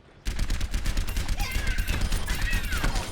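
Soldier 76 burst-fire gunshots in a video game crackle loudly and almost without pause, short rapid volleys running together, with brief higher-pitched game cues layered over the shooting.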